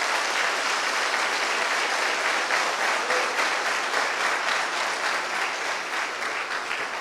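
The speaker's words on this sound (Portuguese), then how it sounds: "Vamos aplaudir o nosso Deus bem forte." A church congregation applauds loudly and steadily, a dense unbroken wash of many clapping hands that carries on for the full stretch and eases off slightly toward the end.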